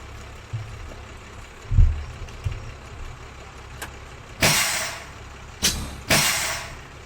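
Parking brake on a 1993 Blue Bird B700 school bus in the Rigs of Rods driving simulator: a few sharp, loud bursts of hissing air release stand out over a low engine rumble, with no talk.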